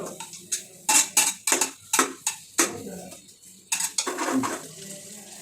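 Onions being sautéed in a hot kadai for chicken biryani: a spatula clinks and scrapes against the metal pan in about a dozen sharp, uneven strokes, close and fairly loud, with no talking.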